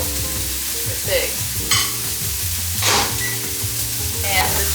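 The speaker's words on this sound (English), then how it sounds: "And the chicken is almost done. It's starting to brown." Chicken browning in a home kitchen pan gives a steady, close sizzle and crackle of frying, broken by a few scraping stirs from a utensil, with no talking.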